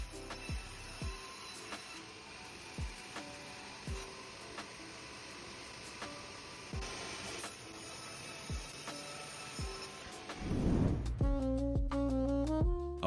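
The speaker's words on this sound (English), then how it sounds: "A log is transformed into perfectly uniform wooden slices in rapid succession" A machine slices a pine log into uniform wooden slices, giving a steady run of sharp, evenly spaced cutting thuds about once a second, then a louder mechanical whir with ringing tones near the end.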